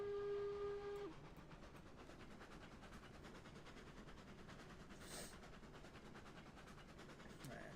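A steam locomotive whistle in the Railroads Online game sounds one short, steady blast lasting about a second, then gives way to a quiet, continuous rumble of the train running through snow.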